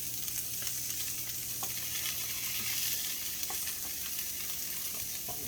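A salmon fillet sizzles in a pan after being flipped, a steady close hiss with faint crackles and a few soft scrapes, no voices.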